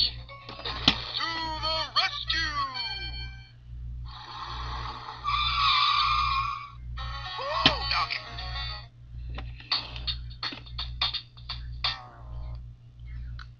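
A Transformers Speed Stars Bumblebee toy car plays electronic sound effects in quick bursts: chirpy sweeping tones, tire-screech and revving noises, and a robotic transformation buzz over a steady low electronic hum, close and tinny.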